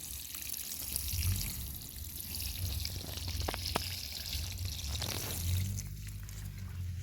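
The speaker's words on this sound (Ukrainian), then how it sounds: "Ось так ось обережно проливаємо нашу гортензію." Water is poured gently onto a hydrangea planted in light soil during autumn garden care, a soft continuous trickle and splash at low volume with no talking.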